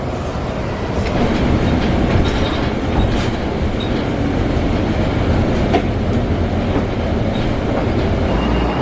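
A New York subway train ride, with a steady loud rumble of the moving car and faint clickety-clack of wheels on rail throughout, no talk.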